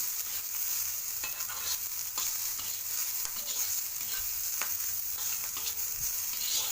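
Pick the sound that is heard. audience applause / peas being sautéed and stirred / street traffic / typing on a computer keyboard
peas being sautéed and stirred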